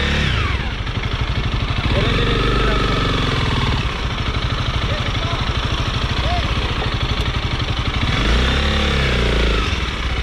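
A weak motorcycle engine runs loudly and steadily close by, revving up and down at times with a rough, sputtering idle.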